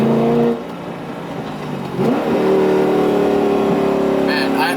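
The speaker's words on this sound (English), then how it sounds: "the sound is one of my favorite sounding V8s of all time" A C5 Z06 Corvette V8, 19 years old, revs up loud and close, the note dipping briefly before climbing again into a sustained, rising engine roar.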